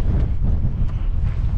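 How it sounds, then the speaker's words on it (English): Steady wind buffeting the microphone out in the open Cheviot hills, a continuous low rumbling roar with gusty swells, loud and close throughout with no voices. "We're out in the Cheviots and it's windy again"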